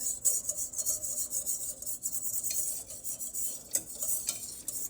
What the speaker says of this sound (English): the mission is to get all the stuff stirred down so it's not lumpy